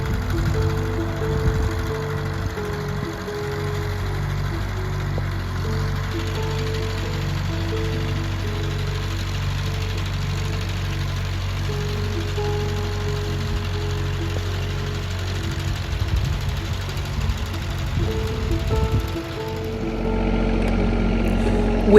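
A Farmall H tractor engine runs steadily while making hay, a loud, low, continuous chugging drone close by that shifts pitch briefly near the end.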